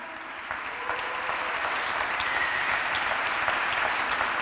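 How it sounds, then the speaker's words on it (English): Dense, steady audience applause for Czech and Slovak champion dance couples at a Latin dance camp's samba lecture, a continuous even roar of many hands with no voices over it. "So big applause for them."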